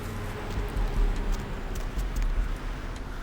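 Rain falls in the Santa Monica area of the game Vampire: The Masquerade – Bloodlines as a steady, fairly loud hiss, with faint patter and low rumbling underneath and no voices.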